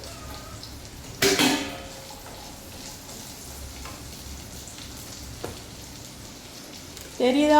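Food sautés in a pan, a soft, steady sizzle running underneath, with a brief clatter of utensils near the start and again at the end and a single short spoken question in the middle.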